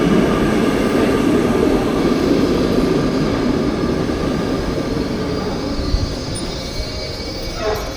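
A new Baltimore Metro SubwayLink subway car rides along, with a continuous loud rumble of wheels on rail and a faint high squeal of the wheels, heard from inside the train without talk.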